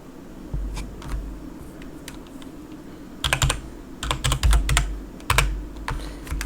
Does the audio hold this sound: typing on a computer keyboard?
yes